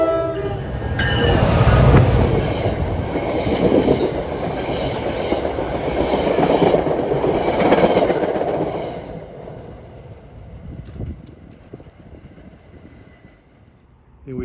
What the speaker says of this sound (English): Here comes 47 from Hoboken to Port Jervis at 128 with another PL42 AC